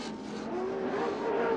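Toyota pro lite race trucks battling for the lead on a Las Vegas off-road race track, a continuous loud engine roar with rising pitch as they accelerate close by.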